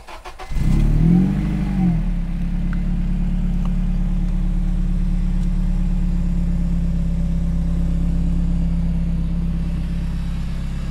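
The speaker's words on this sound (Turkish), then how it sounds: "inceden motoru çalıştırıp sesini çıkar" A Honda Civic Type-R FN2 with a modified naturally aspirated K20 engine revs up sharply, then settles into a steady, low idle that rumbles on close by.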